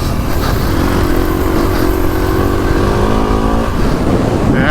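A Kawasaki KX450X dirt bike engine drones loud and close while riding, its pitch rising and falling with throttle changes, steady and unbroken throughout.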